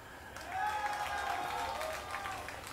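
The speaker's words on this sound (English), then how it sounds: "like 30 people clapping for Polt" A small audience at a StarCraft tournament claps for the player Polt, a thin, scattered patter of applause that swells and then fades, heard faintly beneath a commentator talking.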